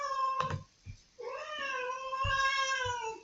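A house cat gives a few loud, drawn-out meows close by, separated by short pauses and some faint handling noises.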